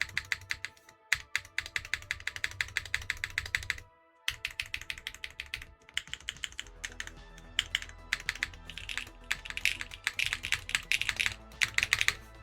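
Fast, steady typing on a lubed Schema mechanical keyboard gives dense, close clacks in a continuous rhythm, with one brief pause, and no talking.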